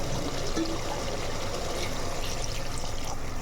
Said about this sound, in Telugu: ఇప్పుడైతే వాటర్ వేసేసుకుందాం